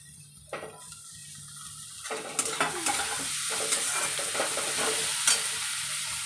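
Raw mango and tomato tipped into a pan of fried onion, setting off a steady sizzle with stirring clatter and a watery hiss that builds after the first two seconds and stays loud throughout.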